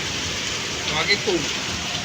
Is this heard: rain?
yes